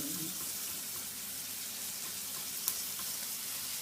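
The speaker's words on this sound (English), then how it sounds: "frying our pork chops over here" Steady sizzling of pork chops frying in a pan, a constant hiss with no talking and one small pop near the end.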